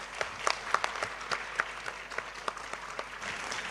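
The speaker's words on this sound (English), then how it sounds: "So I would like to ask you to give a big applause to our president." Applause from a university research convention audience honoring the university president, a steady mid-distance patter of many hands clapping with no voices over it.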